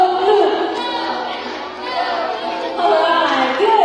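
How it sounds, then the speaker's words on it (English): Audience at a parrot bird show at Ocean Park Cebu cheering and shouting together, a steady crowd roar with louder swells near the end. "now for the boys, let me hear you cheer for Blue"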